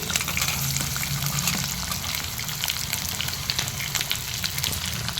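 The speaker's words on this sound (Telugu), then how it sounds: "ఇప్పుడు పోపులోకి ఉల్లిపాయలన్నీ వేసుకుందామండి." Sliced onions go into hot tempering oil holding urad dal, mustard seeds, cumin and dried red chillies, setting off a loud, continuous close-up sizzle and hiss with faint stirring underneath.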